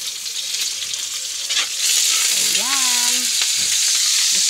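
Onion and tuyo dried fish sizzling in a pan, a steady near crackle that grows louder partway through, with a brief tonal squeak and a few stirring scrapes.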